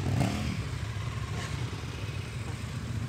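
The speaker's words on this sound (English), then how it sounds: "Just hearing the noise of those engines." Motorcycle engines of bikers arriving at a large gathering on an English country estate: a loud, continuous, close engine rumble with no pauses, alone without talk.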